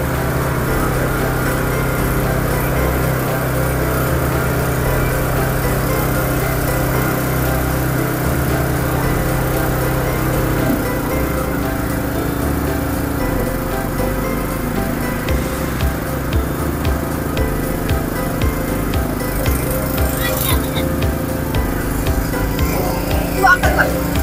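A small water pump engine on a Viar fire-fighting vehicle runs continuously at close range, a steady droning motor hum with slight shifts in pitch and rattling texture throughout.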